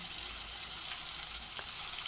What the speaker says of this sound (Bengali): এগুলো এবারে এই তেলটা দিয়ে নুন হলুদ দিয়ে ভেজে নিচ্ছি